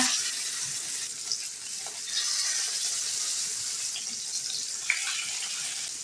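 Karimeen fish rubbed with masala frying in hot oil on a pan makes a continuous bright sizzle and hiss, with a small pop near the end.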